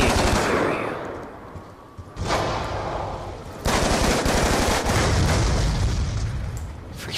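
Rapid automatic gunfire and explosive booms from a Call of Duty Black Ops 2 multiplayer match, loud and continuous, with bursts intensifying partway through and staying dense to the end.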